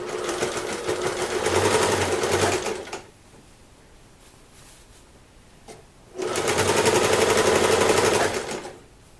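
Sewing machine stitching layers of a tied quilt, a steady close whirring run for about three seconds, a quiet pause, then a second equally loud stretch of continuous stitching.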